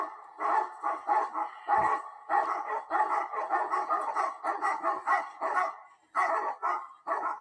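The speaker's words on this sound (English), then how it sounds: "You play that Tibetan Mastiff sound for the first time this entire show" Tibetan Mastiff barking, played as a sound effect: a rapid, steady series of loud, deep barks close up, with brief pauses, and no talking over it.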